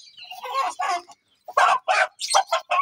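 A white Aseel rooster crows loudly nearby, followed by a run of sharp clucks and calls.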